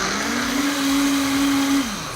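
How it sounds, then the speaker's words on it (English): A high-powered blender whirs steadily while blending homemade nut nog, a nut-based eggnog alternative, holding a strong motor tone close and loud with no talking. "we're just gonna put the lid on and blend"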